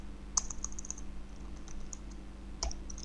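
Sparse clicks of Python code being typed on a computer keyboard, a few quiet keystrokes spread apart with a sharper tap near the start and another near the end over low room hum.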